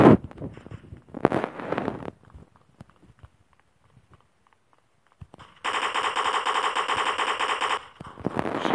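Automatic gunfire in the Block Strike shooting video game: a short rattling burst, scattered clicks and a quiet gap, then a long sustained loud burst of rapid shots, with more firing starting at the end.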